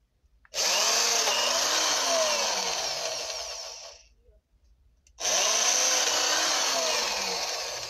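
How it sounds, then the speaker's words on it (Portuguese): An electric screwdriver drills holes, likely into a container for growing orchids, in two loud, close, sustained high whirring bursts with a brief silent pause between them. "tá minha máquina de parafusar"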